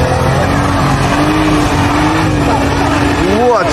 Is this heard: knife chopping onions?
no